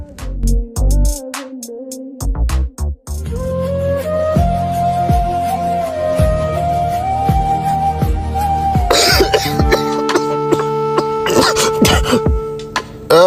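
A man coughs repeatedly and clears his throat in loud bursts, set against a sustained tonal background.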